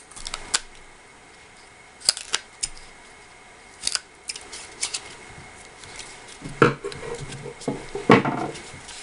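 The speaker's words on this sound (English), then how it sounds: "you can just easily clean that up with a few snips." Scissors snip through sticky-back craft foam while trimming arrowhead pieces level, giving several short, close crisp cuts spread over the span, with a denser cluster of snips near the end.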